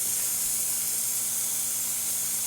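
The steam wand of a Lelit Bianca espresso machine hisses in one loud, continuous, steady rush with no pauses and no voices.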